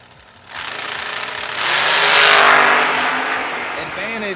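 A drag racing car in an American chassis launches off the crusher button and shifts gear. Its engine roars louder, then eases off, heard at a distance under an announcer's voice.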